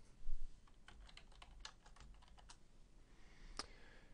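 Quick run of key clicks from a computer keyboard as a name is typed into a dialog in Civil 3D software, crisp and close over a quiet room hiss, ending with one sharper key press.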